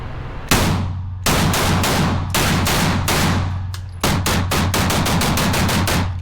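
A custom pistol is fired at an indoor shooting range, with loud sharp shots in quick bursts. The shots form a rapid string near the start and a faster volley toward the end, sitting over a low steady hum.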